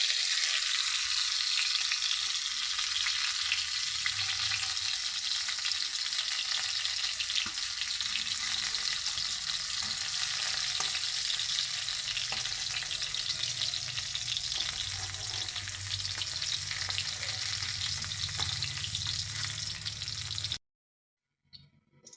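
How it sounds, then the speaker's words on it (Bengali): Cauliflower florets fry in hot oil for a Bengali rui fish curry, giving a steady, loud crackling sizzle with occasional stirs, continuing alone until it cuts off near the end. "ফুলকপিগুলো আমি লাল করে সুন্দর করে ভেজে নিয়েছি"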